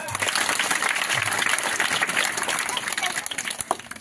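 An audience at an award ceremony in a village applauds a winner named Priyanka Ingale with dense, lively clapping that fills the space, while a voice is heard speaking over it.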